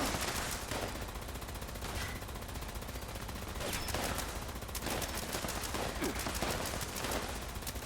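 Gunfire in the Fallout 76 online game, with repeated bursts of shots cracking over a steady, dense background of game sound and no talking.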